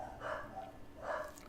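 Dogs bark a couple of times, faint and somewhat distant, in short muffled bursts.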